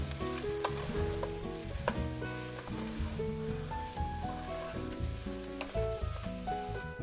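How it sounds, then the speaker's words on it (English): Onion sweating in a base of flour and oil, giving a steady sizzle with occasional stirring and soft utensil knocks throughout, continuous and moderately close with no talking. "Now that I've got that onion in there,"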